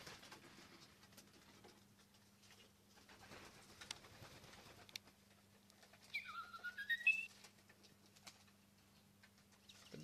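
Pigeons flying around their loft in Adelaide, Australia, with a short rising whistle-like call near the middle over a steady low hum and faint background patter.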